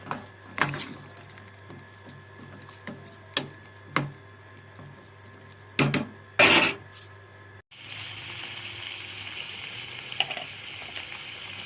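Lentils and flat beans boil in a pot, a soft continuous bubbling hiss that starts partway through, preceded by sharp scattered clinks and taps of kitchen utensils.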